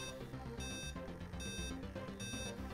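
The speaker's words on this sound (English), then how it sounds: "you'll probably get a continual beeping noise and a message telling you that something is out of screen" A ZX Spectrum drawing-arm program gives off continual electronic beeping, with short high bursts repeating roughly every 0.8 seconds over a steady, busy tonal background.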